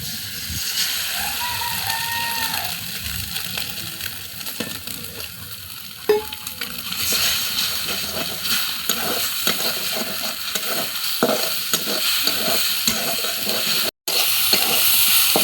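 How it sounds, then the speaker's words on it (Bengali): Egg white sizzling and frying in a pan with pointed gourd (potol), with steady crackling and occasional stirring scrapes throughout, loud and close, no talking. "এই যে এরকম ভাজা ভাজা হয়ে আসলে এর মধ্যে দিয়ে দেবো আমি পোস্ত।"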